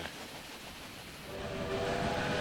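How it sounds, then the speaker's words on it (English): An express train pulls away in the Railway Empire video game, with a steady rumbling rail roll that swells louder partway through and a faint drawn-out whistle tone running underneath. "Okay, so that's the express trains leaving."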